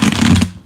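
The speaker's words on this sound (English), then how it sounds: "While I'm shuffling the cards here," Tarot cards being shuffled close up, a dense papery riffling and flicking that runs steadily for well under a second before stopping, with no talking over it.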